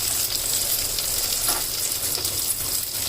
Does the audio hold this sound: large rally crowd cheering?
no